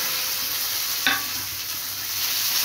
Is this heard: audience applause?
no